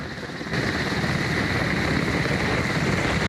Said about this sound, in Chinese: 直升机停伫原地吊挂